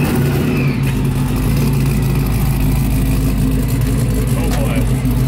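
A 1000hp all-wheel-drive Cutlass G-body engine idling loud and close with a choppy, rumbling lope throughout, steady and dense with no breaks.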